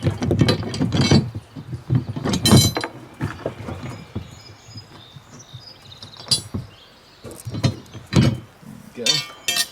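Metal parts of a Brinly hitch being pulled off by hand, giving a series of close clanks, clinks and scraping knocks in irregular bursts, with quiet pauses between.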